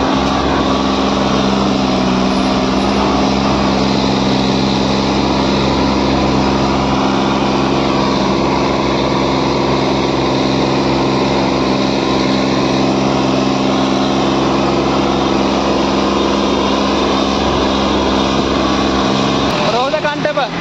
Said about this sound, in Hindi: जोर बहुत जबरदस्त लगा रहा है ट्रैक्टर।